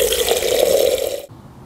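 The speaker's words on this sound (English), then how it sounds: "Fill it with water" Water pours briskly into a plastic hose-end feeder holding slug-killing nematodes, a loud close gushing fill that cuts off abruptly after about a second, leaving quiet.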